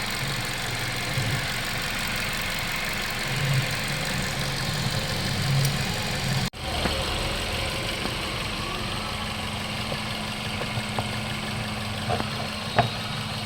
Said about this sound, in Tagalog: Ayan ang napaka kalmado ng andar niya.